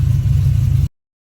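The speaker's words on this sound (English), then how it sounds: "now all 4 tires are on the ground and the engine's running" A restored 1959 Chevy Apache truck, LS-powered, runs with a steady low engine rumble at close range for under a second before it cuts off into silence.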